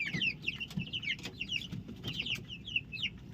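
Broiler chicks peep and cluck in a continuous, busy chatter of many small high calls, close up and fairly quiet.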